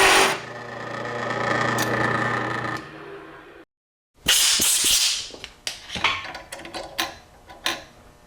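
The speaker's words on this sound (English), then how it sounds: "I'll take that tapered stone that I have and dress it up just a little bit to smooth it up" A tapered stone rubs over the serrated edge of a countersunk hole in a drag-race Powerglide transmission part, giving a steady gritty rasp, then a pause and a run of short scraping strokes and taps.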